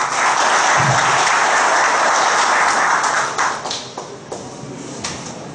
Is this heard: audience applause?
yes